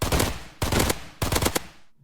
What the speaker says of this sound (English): I kind of like the burst rifle.